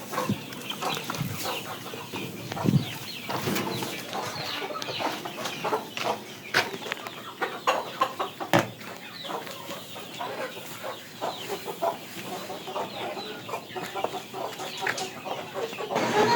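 Backyard desi chickens cluck steadily in a flock while drinking water dosed with Lasota vaccine, with scattered nearby calls and soft pecking and shuffling throughout, no talk.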